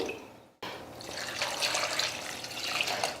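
Water poured into a pot of washed toor dal with garlic, shallots and tomatoes, a steady splashing stream starting abruptly after a brief pause, close and fairly quiet.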